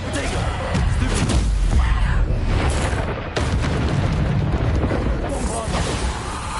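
Bombarda spell blasts in Hogwarts Legacy, loud booming explosions with crackling debris and rumble, layered repeatedly over a dense game soundscape with a voice speaking.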